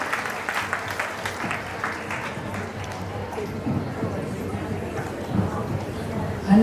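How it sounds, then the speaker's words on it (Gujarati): Applause at a women's group gathering rises in a busy patter of clapping hands, moderately loud and continuous, with a voice talking over it and crowd murmur underneath. "એમના માટે એક જોરદાર તાળી"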